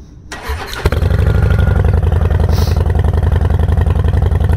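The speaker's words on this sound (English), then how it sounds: "So let's go ahead and start it up, let you hear what this sounds like. So, a little Sportster" A Harley-Davidson Sportster motorcycle cranks briefly and fires up, then settles into a loud, close, lumpy idle with a steady rapid pulsing beat.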